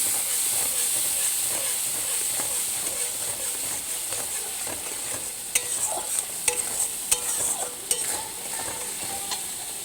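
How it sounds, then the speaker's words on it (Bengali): Spice paste for a tilapia curry sizzles steadily in hot oil with a constant hiss, while a spoon scrapes and stirs the pan in irregular knocks close by. "এবার আমি ভালো করে মশলাটাকে কষিয়ে নেব।"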